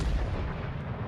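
Naval guns boom from a warship in World of Warships: Legends, a brief loud rumbling blast with a low heavy body that fills the moment, no talk.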